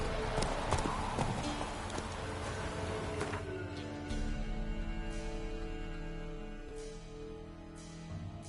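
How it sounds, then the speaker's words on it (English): Horse hooves galloping in a video game, a rapid rhythmic clip-clop of hoofbeats running close and continuous, with a voice speaking over them. "Run, Roach"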